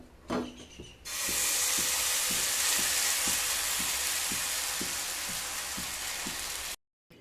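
Suji chilla batter fries in a hot pan with a loud, continuous sizzle and hiss, close up, with a faint regular tapping underneath and no talk.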